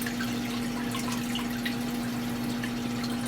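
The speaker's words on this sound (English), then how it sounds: "If I open the lid, you can see the water level draining." Dirty water drains steadily out of an off-grid washing machine, pumped through a hose in a continuous trickling, gurgling flow over a constant motor hum, close and even throughout with no voices.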